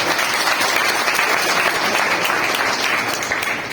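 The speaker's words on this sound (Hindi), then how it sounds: "देसाई साहब के लिए आप लोग एक तालियां जरूर बजाएं" Audience at a retirement function for Desai, a Whirlpool company employee, clapping together in a loud, dense, sustained round of applause that fills the room with no talk over it.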